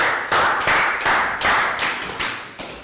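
Children in a Year 3 maths class clap together in a classroom, several short sharp bursts of clapping in a loose, repeating rhythm, close and fairly loud.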